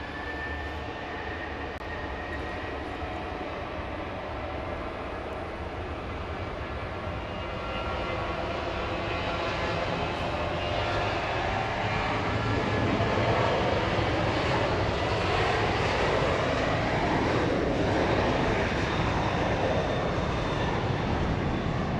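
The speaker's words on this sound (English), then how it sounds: "Southwest, I believe, 2281, going to Chicago O'Hare, 737" A Southwest Boeing 737-700 bound for Chicago O'Hare roars on takeoff at Dallas Love Field, a broad loud jet-engine rumble that swells and holds steadily over many seconds with no voices.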